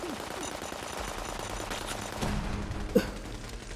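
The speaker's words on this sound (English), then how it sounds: "Did someone just use a Gatling laser?" A Gatling laser firing in a video game, a sustained rapid stream of shots running through the whole clip with a louder burst near the end, with no voices over it.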